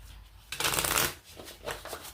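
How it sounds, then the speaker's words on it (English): A deck of tarot cards is cut and riffled in a quick shuffle, a close, crisp burst of flapping card noise with a second softer flurry after, no talk. "We cut the cards, and then I will shuffle"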